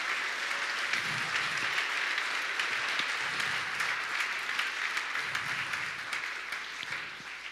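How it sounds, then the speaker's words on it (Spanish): A church congregation gives loud, prolonged applause, many hands clapping in a thick, continuous roar that stays level for several seconds and eases slightly at the close. "yo te invito a que le des un fuerte aplauso al Señor"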